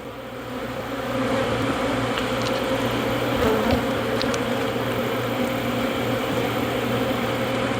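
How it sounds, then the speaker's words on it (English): Honeybees working an open horizontal hive during a pre-winter inspection make a steady, dense droning buzz up close that holds evenly throughout. "And just bees working."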